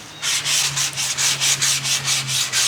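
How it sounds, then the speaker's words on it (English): Coarse sanding cloth rubbed back and forth over an antique wooden door, a steady series of about ten raspy strokes in even rhythm, close and fairly loud, with no talk. "I want to go over it with this really coarse sanding cloth here"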